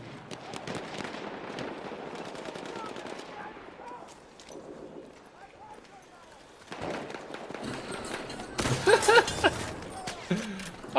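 Bursts of rapid automatic gunfire and sharp shots from Battlefield 1 multiplayer, coming in clusters with brief lulls, growing louder and denser toward the end, with a voice talking over parts of it.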